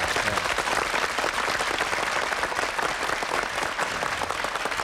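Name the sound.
applause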